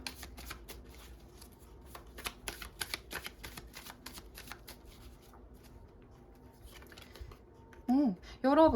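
Tarot cards shuffled and drawn, a run of crisp riffling flicks and soft slaps up close, followed by a pause and a few brief higher sounds near the end.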